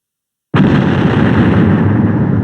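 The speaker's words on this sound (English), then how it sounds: "Tap the X button to shoot the barrels that are within range of your pistol" A barrel is shot and blows up in the Commandos 2 war game. The blast starts abruptly after a moment of silence, then a loud, dense roar sustains to the end.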